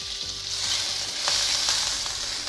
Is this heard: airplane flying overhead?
no